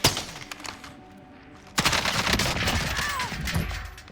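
Kilo rifle gunfire in Call of Duty Warzone, a sharp shot at the start, then a dense rapid burst of cracking shots and impacts after a short lull.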